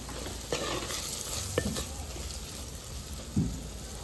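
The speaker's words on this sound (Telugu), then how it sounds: "మామిడికాయ ముక్కలు వేసి ఇట్లా కలిపేసుకోవాలి" Mango pieces being stirred into moong dal in a pan: a soft, continuous sizzle with a few brief scrapes of the spoon, close but quiet, with no talk.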